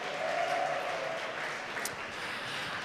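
At an F1 in Schools national final, a large crowd keeps up loud, sustained applause and cheering for a team, a continuous roar of clapping with scattered shouts.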